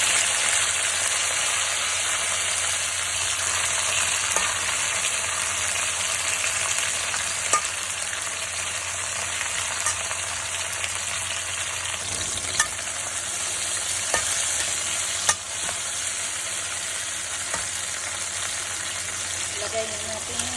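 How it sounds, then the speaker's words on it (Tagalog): Tomatoes sauté in a hot pan for papaya with squid, giving a steady close sizzle and frying hiss with occasional stirring clicks and scrapes throughout. "Ngayon, igisa na po natin yung kamatis."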